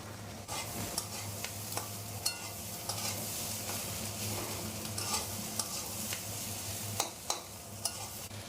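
Chopped onions, two medium ones, hit a hot pan of vegetables for spicy street-style Maggi, giving a steady sizzle broken by repeated scraping stirs of a spatula, close and alone.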